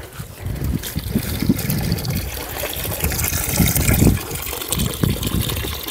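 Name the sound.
water running from a garden hose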